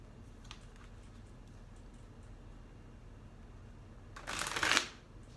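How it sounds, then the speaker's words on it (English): A short burst of tarot card shuffling comes near the end, a brief, close riffle against an otherwise quiet background. "Hold on. We're going to reshuffle these. That's like too many cards."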